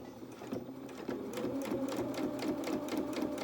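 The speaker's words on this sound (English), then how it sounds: "I'm just going to machine sew that just as it's going" A sewing machine stitching fabric, a rapid, even mechanical whir that runs close and steady and picks up slightly after a brief start.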